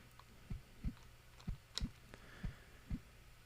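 A character's heartbeat in the game Haunting Starring Polterguy: soft, low paired thumps repeating at a steady, fairly quick pace over a faint hum, with no voices.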